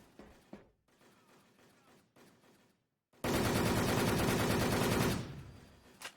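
Video game gunfire fired through a wall, a sustained loud burst of rapid automatic shots lasting about two seconds after quieter scattered noises, then trailing off.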